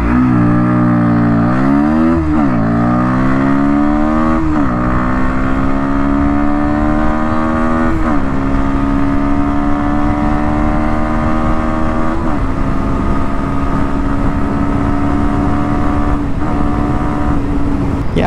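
A 2023 Bajaj Pulsar NS 160 motorcycle accelerates hard on an open road, its engine whine climbing in pitch through several gears with short dips at each shift, loud and close over wind noise.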